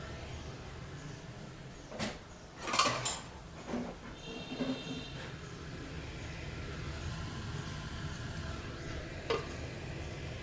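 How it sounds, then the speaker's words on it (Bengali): A metal lid clatters onto a cooking pot of singh fish curry made with mustard oil, several short knocks and scrapes close by in a quiet kitchen. "আমি এখন 10 মিনিটের জন্য ঢাকনা দিয়ে"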